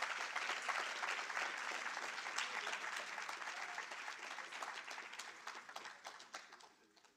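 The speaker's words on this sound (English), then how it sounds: "I think Ridor deserves another big round of applause" A fairly distant, steady round of applause from a symposium audience, many hands clapping evenly before gradually thinning and fading toward the end.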